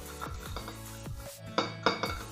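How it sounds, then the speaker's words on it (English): Dry marinade ingredients for beef steak being mixed in a bowl: several sharp clinks and scrapes of utensil against dish, with two louder knocks near the end, close and alone. "And now we are going to mix all the ingredients together"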